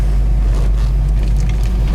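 A 1965 Ford Mustang idles and backs out slowly in reverse, its engine giving a steady, close, low rumble with no talk over it.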